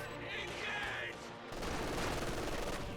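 In a real-time strategy battle, machine gun and sniper fire crackle in dense, steady bursts that grow heavier partway through, with a commentator's voice audible beneath.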